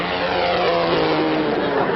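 A propeller airplane drones past as a comedy sound effect, a steady loud engine roar that holds evenly throughout without talking.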